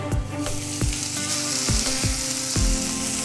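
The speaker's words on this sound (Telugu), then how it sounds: "ఇప్పుడు దీంట్లో మనం స్టఫ్ చేసుకున్న వంకాయలు వేసుకోవాలి." Stuffed brinjals fry in masala gravy in a pan for Gutti Vankaya curry, giving a steady loud sizzle with sharp pops and crackles spaced through it, near and with no talk.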